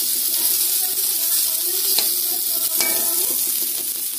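Fried sea crab stirred and lifted from a sizzling pan, steady oil crackle under scraping and clinks of a utensil against the pan, with a couple of sharper knocks.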